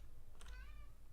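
A pet cat named Fuzz gives one short, faint meow with a falling pitch in a quiet room, over a low background hum.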